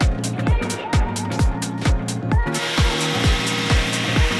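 A power tool grinds and hogs out a thick hole for a Temu replacement engine on a Yamaha dirt bike, with steady buzzing and rhythmic pulsing strokes about twice per second, loud and close.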